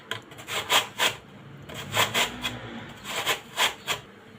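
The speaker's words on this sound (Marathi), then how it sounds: "बटाटा आडवाच धरायचा आहे आणि तो किसायचा आहे जेणेकरून त्याचे जे किस आहे तो मोठा मोठा येईल" A potato is grated crosswise on a hand grater into large shreds, with about a dozen rhythmic rasping strokes in short bursts, close and fairly clear.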